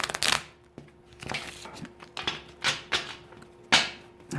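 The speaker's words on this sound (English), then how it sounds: "I'm going to shuffle one more time" Tarot cards being shuffled by hand, a series of soft, irregular riffling and tapping bursts close to the microphone, with no talking.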